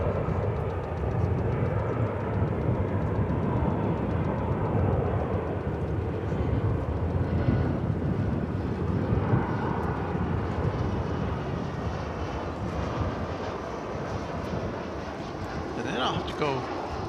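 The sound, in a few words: British Airways airliner from London at DFW Airport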